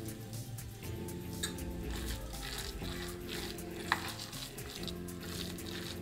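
Hot oil sizzling in a pan while frying chana dal vada, a steady soft crackle and hiss with a faint utensil clink partway through.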